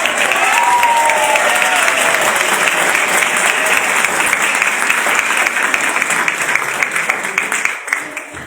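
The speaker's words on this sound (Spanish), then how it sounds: "démosle ese aplauso al ganador" An audience at a book launch applauds the winner: sustained, dense clapping that stays loud and even for several seconds, with crowd murmur and a brief whistle-like tone early on, tapering slightly at the end.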